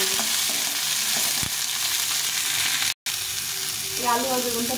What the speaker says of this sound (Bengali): আলু আর বেগুনটা ভালো করে একটু ভেজে নেব।